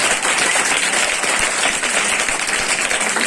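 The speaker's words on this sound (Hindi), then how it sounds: "जोरदार तालियां" Church congregation breaking into loud, close applause, a continuous dense clatter of many hands clapping that holds steady for a few seconds with no voices above it.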